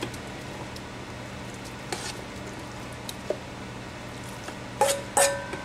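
Butternut squash hits a hot stock pot and sizzles in a steady hiss, with a few sharp clinks and scrapes of pots and utensils near the end.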